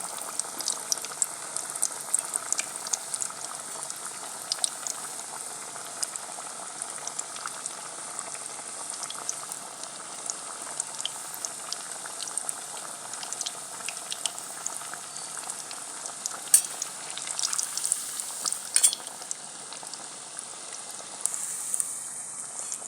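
Bread tikkis frying in a kadai of hot oil, a steady bubbling sizzle with crackling pops throughout, close and moderately loud with no talking.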